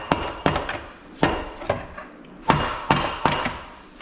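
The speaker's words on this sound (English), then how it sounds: "So I keep hitting the tailstock" A stuck lathe tailstock struck repeatedly, heard as about eight sharp, close hammer blows at an uneven rhythm, each hard knock ringing briefly before fading, with quiet pauses between strikes and no talking.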